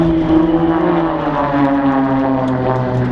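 Small propeller display aircraft with a 24-foot wingspan fly in formation over parkland at an outdoor proms show, a loud, steady buzzing drone overhead with wavering pitch and no voices.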